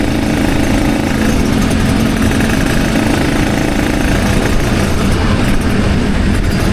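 A Kawasaki Ninja RR motorcycle engine drones steadily and loudly while riding on a morning trip, with dense continuous rumble and wind noise and no pauses.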